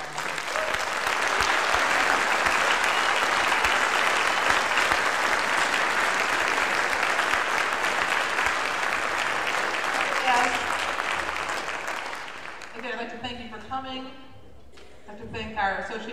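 Sustained audience applause fills a high school band concert, loud and dense for about twelve seconds before thinning out, with a voice speaking as the clapping fades.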